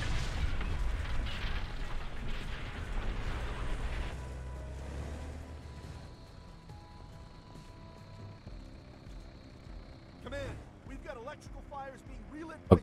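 Explosion in the video game Firefighter Simulator, a loud low rumbling boom filling the opening seconds and fading into game ambience with a steady tone, then brief crackling pops near the end.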